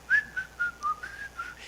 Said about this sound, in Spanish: Y está silbando una melodía.